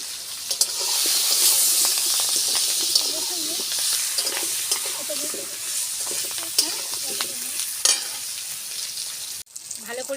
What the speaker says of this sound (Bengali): ছোটো পেঁয়াজ চার খালি করে নিয়েছি এটা দিয়ে দুটো তেজপাতা দিয়ে দেবো